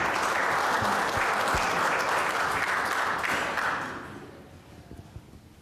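A room full of people at a community safety meeting applauds to welcome a speaker, loud sustained clapping that fades away after about four seconds, leaving a few scattered claps and room noise.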